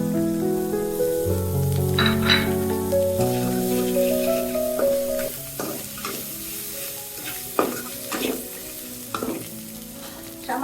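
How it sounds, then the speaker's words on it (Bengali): Chopped green chillies stir-fry in spice paste for a rohu fish curry, a close sizzle broken by repeated scraping and stirring knocks of a spatula in the pan. "কাঁচা লঙ্কা কুচা দিয়ে দিচ্ছি।"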